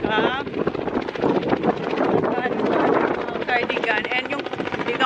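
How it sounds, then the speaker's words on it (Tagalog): A helicopter flying overhead thrums steadily nearby, its rotor beating throughout while people talk in Filipino over it. "May helicopter doon."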